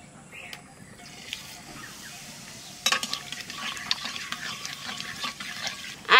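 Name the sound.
nigella seeds (black cumin) sizzling as they are added to hot oil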